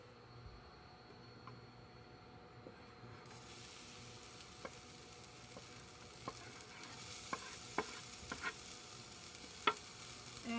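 Diced onion hitting a hot pan still slick with bacon fat, a steady broad sizzle with scattered sharp clicks and stirring scrapes, close and alone with no talking.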